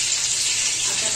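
Freshly washed curry leaves spluttering in hot oil under a lid, a steady, loud, dense hiss and crackle with no breaks, close by.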